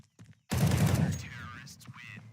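Gunfire during a Counter-Strike esports match, a short close burst of rapid automatic shots that fades into a lingering tail, with a commentator talking over it.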